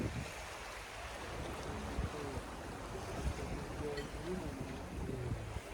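Waves washing onto a small beach in Pattaya, Thailand, a continuous rushing surf with strong wind buffeting the microphone and faint voices in the background.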